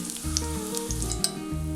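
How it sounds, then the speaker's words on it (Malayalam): Okra pieces frying in hot oil give a steady, close sizzle, with a low rhythmic rumble and occasional small pops and clinks. "ഇപ്പോൾ ഈ വെണ്ടയ്ക്ക ഒന്ന് നല്ല ഫ്രൈ ആയിട്ടുണ്ട്."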